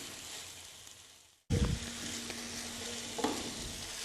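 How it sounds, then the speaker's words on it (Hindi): Small cubes of chicken, about 250 grams, land in a hot pan with a sudden burst of sizzle that settles into steady frying, with a few stirs and scrapes. "इसके अंदर डाल देंगे और इसको भी फ्राई करना है।"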